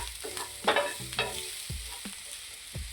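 Onion and garlic slivers sautéing and being stirred in oil on a tawa for masala pav, with soft sizzling under repeated scraping stirs and a few sharp utensil knocks, close and moderately loud.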